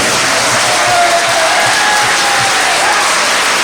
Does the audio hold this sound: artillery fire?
no